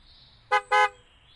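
A car horn sounds twice, a short toot followed by a slightly longer honk, close and clear over a quiet background as a car arrives.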